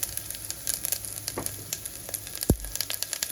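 Garlic and cumin sizzle in hot oil in a pan, a crackling close hiss with scattered pops and one firm clack of a utensil against the pan.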